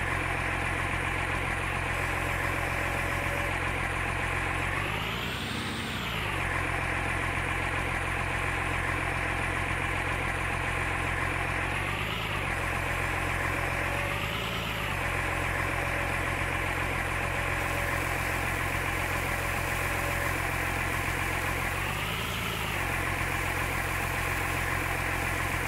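A wheel loader's engine idles steadily in a farming video game, a continuous droning hum with a few brief rises in pitch as the machine revs slightly, close and alone without talk.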